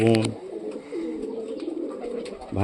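Punjabi pigeons cooing close by in soft, low, rolling calls, with a louder coo at the start and end, and a voice talking briefly.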